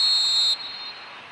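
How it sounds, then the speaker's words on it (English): A referee's whistle blows for offside in an eFootball mobile match: one steady, shrill blast of about half a second that cuts off sharply, leaving a low background hum. "And the whistle's gone, presumably for offside."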